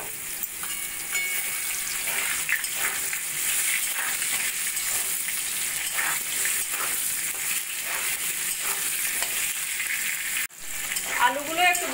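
Diced potatoes hitting hot oil tempered with cumin and bay leaf for a pointed gourd curry, giving a continuous bright sizzle with faint rhythmic stirring throughout and a brief drop near the end.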